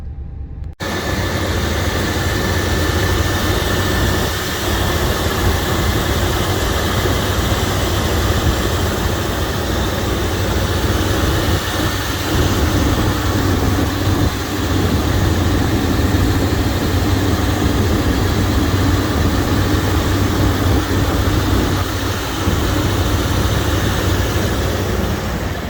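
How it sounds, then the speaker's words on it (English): Fuel-injected Chevrolet Suburban overland camper idles after a cold start with the engine compartment open, a steady, loud, continuous low rumble and hum recorded up close, unbroken for the whole stretch with no voices. "open the engine compartment so you can hear it running"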